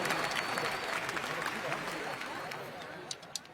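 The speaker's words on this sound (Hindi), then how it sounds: "जोरदार तालियों से उनका स्वागत करें" A crowd claps in welcome after a donor's offering at a Ram devotional gathering, dense applause with some babble that thins toward the end, with a couple of sharper claps.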